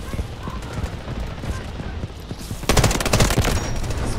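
Assault rifle gunfire in the video game Delta Force, a loud sustained automatic burst that starts abruptly partway in, after a stretch of background game noise with a voice talking beneath it.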